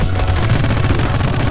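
Dense, continuous video game gunfire while dodging bullets in My Friend Pedro, a loud, unbroken clatter of overlapping shots and booms throughout.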